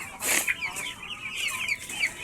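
Several chickens cluck and squawk close by in a backyard in short, overlapping bursts, with no talking.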